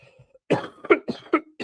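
Several harsh coughs in quick succession, close and loud, after a brief quiet moment.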